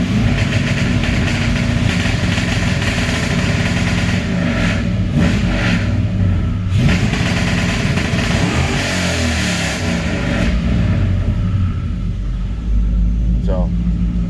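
A loud car engine on a two-step launch limiter rumbles and revs steadily with crackling bursts, running on and on close by, with a brief high squeal near the end.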